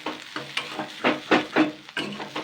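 Fish roe stir-fried over medium heat in a little oil in a kadai, with a spatula scraping and stirring in short, repeated strokes over a soft sizzle, close and fairly quiet.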